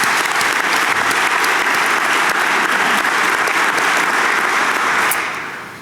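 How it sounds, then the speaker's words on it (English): Sustained round of audience applause at a college reunion convocation, a dense, even roar of many clapping hands filling the hall for several seconds before tapering off at the end. "Can we please give her a round of applause?"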